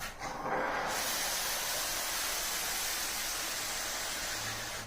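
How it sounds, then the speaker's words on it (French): A Vapodil steam cleaner blasts a continuous, loud hiss of steam while cleaning a glass roof, a steady broadband rush that holds unbroken for the whole stretch. "je vais procéder au nettoyage en envoyant ma vapeur"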